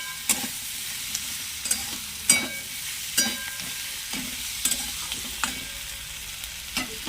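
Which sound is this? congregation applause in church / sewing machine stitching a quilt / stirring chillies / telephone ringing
stirring chillies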